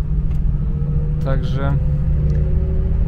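A Volga GAZ-24-10 rolls over a rough, wavy road, giving a steady low rumble of tyres and engine from inside the cabin while someone speaks briefly over it.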